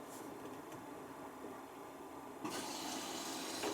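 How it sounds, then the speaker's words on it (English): A washing machine fills with water for a boil wash, a faint steady rushing flow that swells louder partway through. "I'm going to stick on the boil wash now"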